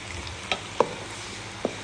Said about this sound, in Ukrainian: Ми кладемо смажити цибульку, споді є цибулька, гриби. Все все підсмажуємо.